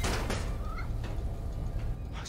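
A cat meows faintly in Spider-Man: Miles Morales, with a couple of short, rising mews amid loud, noisy game ambience and thuds.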